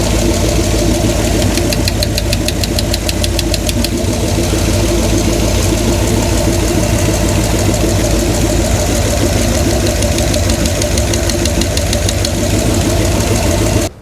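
A 1963 Chevy C10 with a big block 348 V8 runs steadily and loudly up close, a dense continuous engine drone with a ticking, knocking clatter throughout and no voices.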